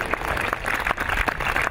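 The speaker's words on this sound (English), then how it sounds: "You can clap for that one." An audience at a UCSB Muslim Student Association vigil for Christchurch claps steadily for a couple of seconds, a dense, even patter of many hands filling the room.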